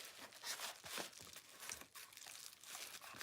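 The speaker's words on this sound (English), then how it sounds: "I can't even open an envelope." A paper envelope is ripped and crumpled close up, giving steady crinkly tearing with a few louder pulls throughout and no voices.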